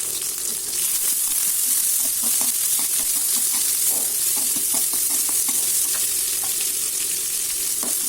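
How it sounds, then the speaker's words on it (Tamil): Onions, green chilies and curry leaves sautéing in a pan for a fish curry, a constant close hiss of frying with regular light clinks and scrapes of a stirring spoon and no speech. "இதோடு சேர்த்து பச்சை மிளகாவும் சேர்த்துட்டு இதை வந்து நல்லா வதக்கிடுவோம்."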